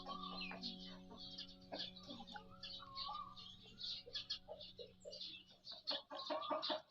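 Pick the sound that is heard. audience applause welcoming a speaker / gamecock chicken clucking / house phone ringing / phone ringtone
gamecock chicken clucking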